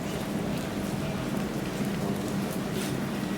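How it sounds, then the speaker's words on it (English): Steady rain falls on a wet, flood-hit day, a continuous soft hiss of drops spread evenly with no breaks, faint and without any voices. "raining day today."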